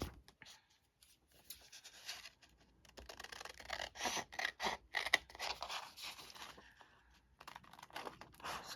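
Scissors snip through craft material at close range, a run of irregular crisp cuts and scraping handling noises, quiet and with no talking.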